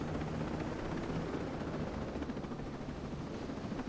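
A helicopter in the Ghost Recon Breakpoint video game, its rotor chopping in a steady loud thrum with a constant whine above it, close and continuous throughout.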